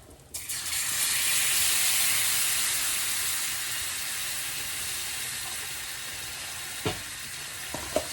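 Cream poured into a hot pan of truffle butter hits with a loud, broad sizzle that swells quickly and then settles into a steady frying hiss, with a couple of faint clinks near the end.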